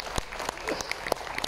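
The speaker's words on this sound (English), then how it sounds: "Let's give a big round of applause for you," Scattered applause from a gathering of passengers aboard a cruise ship, individual claps distinct within a thin, moderate patter over a short burst.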